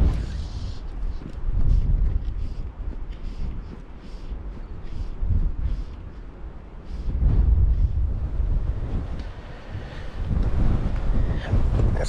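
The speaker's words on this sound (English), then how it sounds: "Let's see if I can use this wind to my advantage." Strong wind buffets the microphone in rising and falling gusts during fly fishing for flounder on the Outer Banks at Cape Hatteras, giving a loud, rumbling roar with no other clear sounds.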